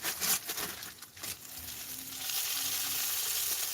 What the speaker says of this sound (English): I don't even know if you can hear that sizzling, but that's sizzling.